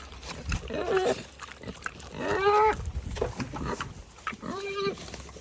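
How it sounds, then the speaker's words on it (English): Pigs on a farm giving short grunts and squeals, a few separate calls at moderate distance against faint background noise. "Here's our little piggies."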